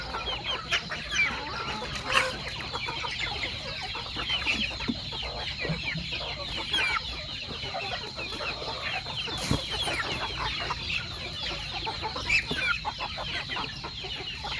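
Free-range village chickens cluck and chatter steadily around a backyard coop, with soft, overlapping calls from several birds at moderate distance and no talk over them.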